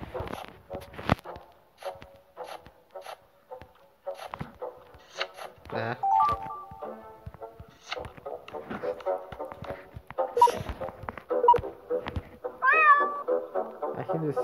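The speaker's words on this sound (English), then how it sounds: "I hear the sound of cat." Several short cat meows come through amid puzzle escape game sound effects and background music, moderately loud, with a voice talking now and then.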